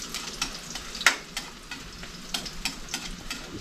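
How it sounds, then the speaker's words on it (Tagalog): Chopped garlic sautés in hot oil in a pan, giving a continuous close sizzle with crackling pops and stirring scrapes at irregular intervals. "So yun, magigisa na tayo."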